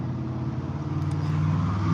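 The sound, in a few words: road traffic noise, cars passing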